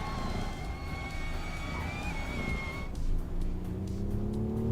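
A high, thin turbo whine rises and holds over steady car engine and road rumble, then fades as a lower tone climbs beneath it.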